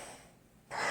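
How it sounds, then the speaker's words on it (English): A single deep breath drawn in through the nose and mouth, a quiet airy inhale rising to a louder, fuller rush of air at the end, close and alone. "Take some deep breaths in."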